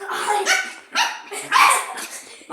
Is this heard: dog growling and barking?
yes